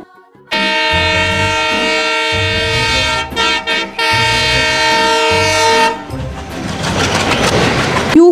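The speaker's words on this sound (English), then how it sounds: "T for train." A train horn blasts loud and close in long sustained tones with brief breaks, then gives way to rumbling, rattling rail noise as the train passes.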